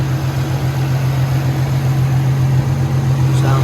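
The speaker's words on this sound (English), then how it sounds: "So here it is idling, you guys." A swapped engine in an Infiniti G37 idles steadily with a loud, constant low hum, a steady drone that holds without change throughout, close to the car.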